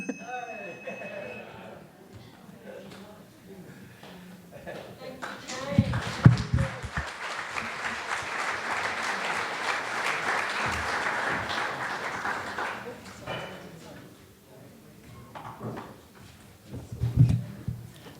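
Applause for speaker Shane at a talk builds in the middle, a moderate burst of clapping lasting several seconds, framed by quieter stretches with spoken voices and a short knock before and after.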